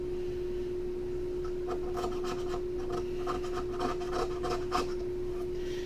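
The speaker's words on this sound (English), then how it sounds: "You want to be careful when you're scraping right here" Plastic being scraped with a tool during an iPad Air screen replacement, giving quiet, irregular scratchy strokes over a steady electrical hum, close up with no talking.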